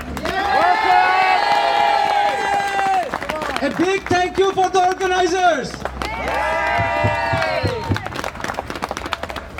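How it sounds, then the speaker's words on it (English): A crowd at an anti-terrorism rally cheers and claps loudly around someone speaking through amplification, his voice carrying over the noise in bursts. "Give him a big round of applause."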